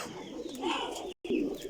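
Teddy pigeons cooing in a loft, a brief, soft, low throaty coo repeated twice close by with a short break between, no talking.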